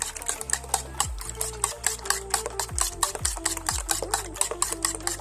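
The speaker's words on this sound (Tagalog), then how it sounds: "Then, haluin lang po." A fork stirring tuna pie filling in a bowl, a rapid, steady scraping and clicking rhythm close up, with a low mechanical hum and a few falling tones running underneath.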